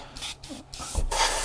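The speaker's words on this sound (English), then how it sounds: "we just want to spray that in there, right, and just spray the bottom of the deck" An airbrush sprays paint onto the deck of a 1/84 scale HMS Victory model ship in short, close hissing bursts separated by brief pauses, the final burst longest and loudest.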